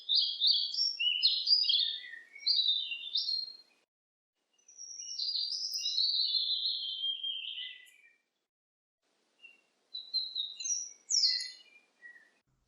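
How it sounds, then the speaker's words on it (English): Birdsong from birds high in trees, processed in Adobe Premiere to sound distant, comes as bright chirping and warbling phrases in several bursts separated by short silences, with no talk. "Something that can pull the bird noises away from the camera because birds are in the sky or high up in the trees."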